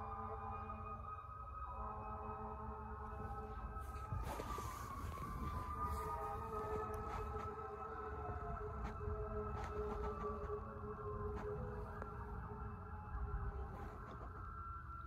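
Police, ambulance and fire truck sirens wail, rising and falling steadily at a distance, sustained over a constant low rumble during lightning and rain, with no speech.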